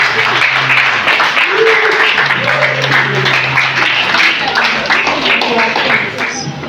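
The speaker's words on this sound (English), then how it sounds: "Give a round of applause for yourself" Loud, continuous clapping from an audience at a sickle cell disease talk fills several seconds, with a voice speaking over it before it fades near the end.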